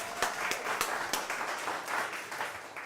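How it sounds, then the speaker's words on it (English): Scattered clapping from a small audience at a wellness talk being livestreamed, individual claps audible through a soft continuous wash of hands, moderately loud and fairly close. "Round of applause for him."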